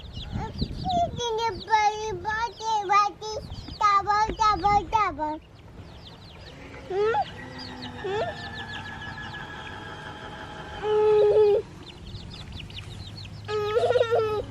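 Chickens cluck and squawk in rapid, rhythmic bursts close by, with longer drawn-out calls following, loud and busy over faint background noise.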